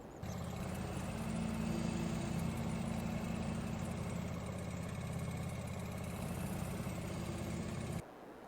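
A John Deere 1025R compact tractor idles in Farming Simulator 22, a steady, loud mid-pitched engine drone that holds even for about eight seconds before cutting to a quieter background hum.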